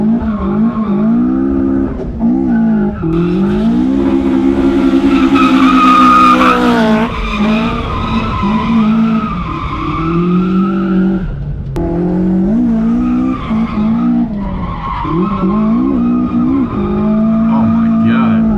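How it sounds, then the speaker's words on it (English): A Toyota AE86 drifts with loud, drawn-out tire squeals and skidding over a revving engine, heard up close; a voice speaks briefly over it. "That thing sounds so good, man. It drifts!"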